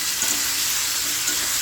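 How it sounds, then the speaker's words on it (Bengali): Masala with coriander and chili powder fries in a pan with a continuous bright sizzle and steady crackle, heard close and alone throughout. "এখন ভালো করে মশলা কষিয়ে নেব।"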